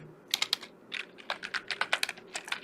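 Quick, uneven keystrokes on a computer keyboard clatter close by in short bursts, entering text into AutoCAD with no talking over them.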